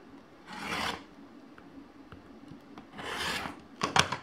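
A quilt block is trimmed by hand, with two gritty rasping cutting strokes about two seconds apart, separated by faint taps and ending in a few sharp clicks, close and fairly quiet.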